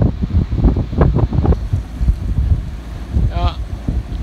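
A force 6 wind of about 25 knots buffets a sailboat, roaring and gusting loudly across the microphone, with faint voices underneath.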